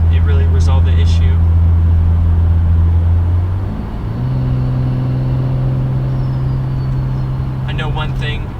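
BMW M235i fitted with Turner Motorsports hot-side and cold-side charge pipes, its turbo and intake whooshing steadily under a low engine drone that drops in pitch midway as revs settle, with people talking over it.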